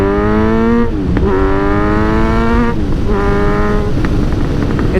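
A Kawasaki Z900RS motorcycle ridden on the road, engine climbing steadily through three gears with clear pauses at each shift, loud and close under steady wind noise.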